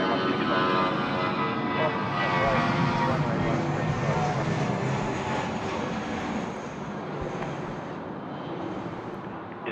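A Jetstar airliner rolls for departure at Sydney Airport, its engines producing a loud, steady broadband roar that holds throughout. A voice is heard faintly beneath the noise.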